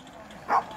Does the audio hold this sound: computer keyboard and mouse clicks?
no